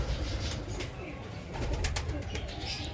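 A golden pair of pigeons coos softly and continuously at a distance, over a steady background hiss and rumble.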